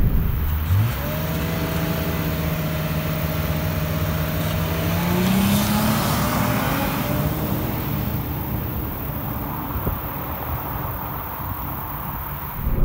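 A 2018 Lexus LC500h hybrid coupe accelerates hard from inside the cabin, its engine note climbing in a long rising sweep, then easing as speed builds, over steady road and wind roar.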